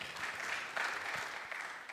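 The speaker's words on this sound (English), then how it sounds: "Another round of applause, please." Faint, distant applause from an audience at a safety forum follows a presentation, a soft continuous patter of clapping with nothing else heard.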